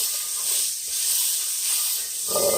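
Butter sizzles with a steady, loud hiss in an overheated pan while chicken and rice with vegetable soup is being made, and a brighter crackling burst rises near the end.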